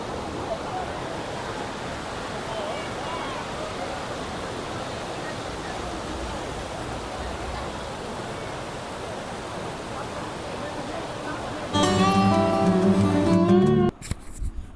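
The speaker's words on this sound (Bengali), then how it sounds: "নেমেই নিচে এরকম একটা ঝর্ণা, ঝর্ণা মানে নদী, মানুষজন এখানে স্নান করছে" Steady broadband rush of a hill river flowing below an ashram near Guwahati where people bathe, continuous and fairly close, with a brief burst of a tonal sound near the end.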